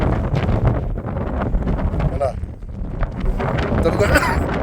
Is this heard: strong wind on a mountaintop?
yes